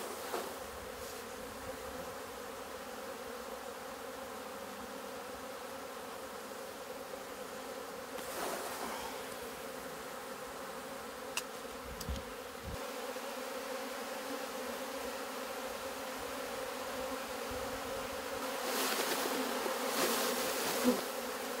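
Honeybees shaken from a hive frame into a tub hum in a continuous, soft buzzing drone, swelling louder now and then as the swarm stirs, with faint knocks in between.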